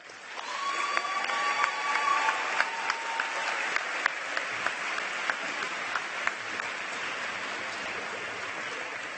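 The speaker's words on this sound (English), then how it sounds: "Please join me now in applauding the Safe Communities team" A large audience at a city celebration event applauds steadily, a dense sustained wash of clapping heard from within the hall, with a few sharper individual claps standing out and no speech over it.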